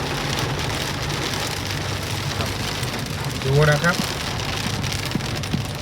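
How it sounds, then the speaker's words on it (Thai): Heavy rain pours down during a windy storm in Khon Kaen, Thailand, a dense steady hiss that persists throughout, with someone speaking briefly over it partway through. "ฝนตกหนักลมแรงครับที่จังหวัดขอนแก่นนะครับเนี่ย"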